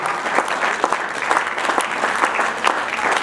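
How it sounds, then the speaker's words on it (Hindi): Sustained audience applause welcoming poet Dinesh Raghuvanshi at a poetry gathering, steady loud clapping from a sizeable crowd with occasional sharper individual claps standing out, no speech over it. "मैं चाहूंगा कि तालियां जरा बजती रहें ताकि दिनेश रघुवंशी का हम स्वागत कर सकें।"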